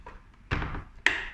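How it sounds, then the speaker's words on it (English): A door lock latch is pushed into the edge of a door, producing a few close hard knocks and thunks, the last one a sharp metallic clack. "we want to insert the latch into the door"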